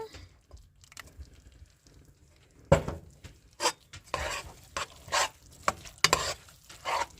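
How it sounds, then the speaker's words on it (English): Tomato sauce being stirred into a dinner dish in a pan: a spoon scrapes and knocks against the pot in irregular bursts, close and moderately quiet, with a faint sizzle underneath and no talking. "Give that a good stir."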